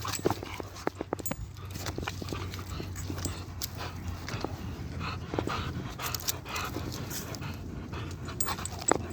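Female working bulldog pants heavily after fetching a stick, rapid rhythmic breathing close by with a few faint whimpers and scattered clicks and rustles outdoors.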